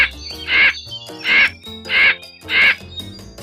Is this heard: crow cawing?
yes